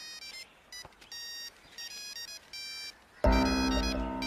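A mobile phone ringtone in an Indian film scene, a chirpy electronic melody in short bursts that swells louder and fuller near the end.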